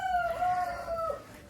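Chickens in a muddy chicken coop crow and cluck close by, with a drawn-out rooster-like call running through the short moment before it trails off.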